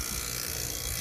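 A vacuum pump hooked to the refrigerant lines of a two-zone mini split install hums steadily, a constant dense buzzing whine with no breaks, close and fairly loud.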